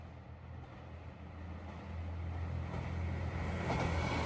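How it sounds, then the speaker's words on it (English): An express train passing through rural Tsubojiri Station in Japan gives a faint, distant rumble that slowly swells louder as it approaches, mixed with wind. "this express train passing means that it's nearly time for my train"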